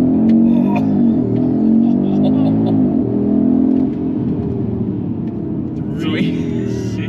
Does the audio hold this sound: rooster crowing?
no